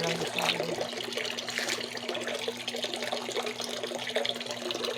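Water runs steadily from a tap in the morning, a continuous broadband splashing flow that holds throughout, with a low steady hum and some background voices underneath.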